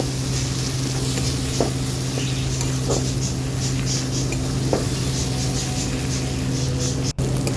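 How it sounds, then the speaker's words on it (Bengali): Spice paste fries in a pan for a Bengali vegetarian paneer dish, giving a constant loud close sizzle with a low steady hum beneath, a few soft stirring taps and a sharp click near the end. "মশলাটা এবার খুব ভালো করে আমি কষিয়ে নেব"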